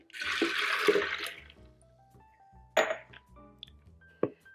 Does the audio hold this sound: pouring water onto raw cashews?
yes